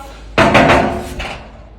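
A locked door is banged on: one heavy, loud thud followed by a few rattling knocks, close by and ringing out briefly, with no voices.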